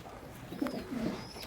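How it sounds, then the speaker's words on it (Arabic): Recently weaned homing pigeon squabs give soft, low coos, a couple of short murmuring calls close by over a quiet background, with no talking. "ده زغلول زاجل اتفطم برضه امبارح"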